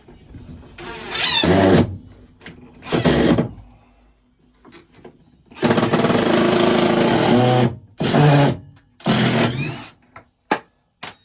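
A power driver sinks a screw into a shower support rail aboard a narrowboat under construction, whirring in several short bursts of one to two seconds each, separated by quiet pauses and small knocks.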